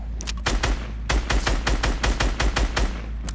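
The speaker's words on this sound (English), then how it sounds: "Somebody's shooting at them." Rapid bursts of video game gunfire from a Fortnite match crack out in two clusters of a dozen or so close shots, with a short pause between them and no talking.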